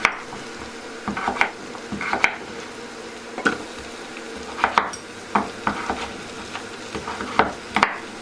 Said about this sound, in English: And you need to cook the butternut squash for 5-10 minutes, just to get them softened up a little bit.